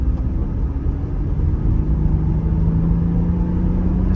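A 2020 Ford Transit van gathers speed again after braking, its engine a steady low drone with a slowly rising pitch under road rumble inside the cab.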